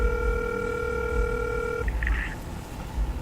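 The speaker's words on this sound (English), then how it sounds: "The phone's ringing now." A telephone line on a call gives steady electronic tones for a couple of seconds, then a brief burst of warbling ring or dial signals before going quiet under faint background noise.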